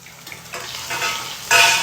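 Spices for a tadka crackle in hot oil in a home kitchen, a short sizzle that swells and ends in a loud burst of spitting as the tempering hits the pan.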